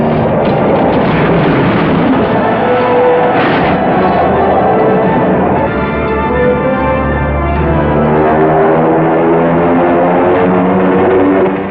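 A propeller airplane drones loudly and steadily in flight, its engine roar thick with layered buzzing tones that never let up.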